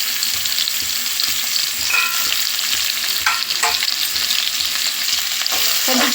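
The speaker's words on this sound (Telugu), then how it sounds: "కొంచెం ఫ్రై అయ్యేదాకా ఫ్రై చేద్దామండి" Onions, green chillies, tomatoes and cashews fry in a pan for a brinjal chicken curry, giving a loud, continuous close sizzle broken by occasional scraping stirs.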